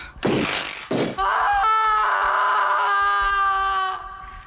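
A woman's death scream from the film Logan's Run: two short harsh cries, then a long, loud, sustained high-pitched wail lasting about three seconds before it cuts off.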